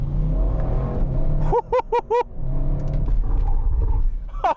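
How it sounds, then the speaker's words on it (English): A 2021 Audi RS6's exhaust note drones steadily inside the cabin, broken midway by a few short, sharp tonal chirps, then the engine hum returns. "it is a difficult job to get nice exhaust notes to penetrate into the cabin"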